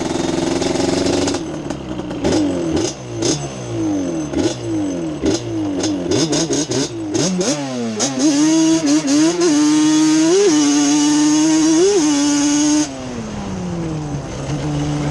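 A motor idles and revs in short bursts, then settles into a steady low, rumbling drone with a few throttle blips, loud and close, no talking; a 2006 special edition vehicle's exhaust at low RPM on gravel.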